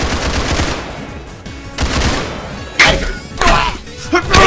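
A Tommy gun fires in the Roblox Criminality video game, with loud, close bursts of rapid shots broken by brief pauses.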